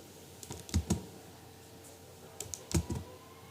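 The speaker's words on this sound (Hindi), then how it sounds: "I will just simply click on back space" A computer keyboard key is tapped during PowerPoint editing: two short, close-up bursts of crisp clicks about two seconds apart, over a quiet background with no talking.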